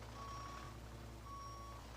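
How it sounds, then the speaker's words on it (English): Steady electronic reversing beeps from a truck in a truck simulator video game, a repeating two-tone alarm pattern over a low engine rumble, fairly quiet and with no talking. "Oh, I gotta reverse."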